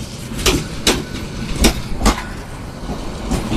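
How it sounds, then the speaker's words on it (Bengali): A passenger train pulls out of Dhaka's Kamalapur station bound for Chittagong, its wheels thudding over rail joints in loud, evenly spaced clacks against a steady rumble close by. "ঢাকা কমলাপুর থেকে চট্টগ্রামের উদ্দেশ্যে ট্রেনটি রওনা হলো নাকি?"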